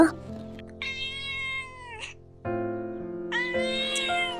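A cartoon cat meows several times in drawn-out, tonal cries with short pauses between them, against a steady background hum.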